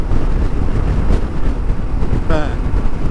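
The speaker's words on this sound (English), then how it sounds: "Yeah, it is windy" Heavy wind roars steadily across a rider's microphone as a Yamaha Tenere 700 rally-fitted motorcycle crosses a bridge, with the engine and road rumble buried under the buffeting.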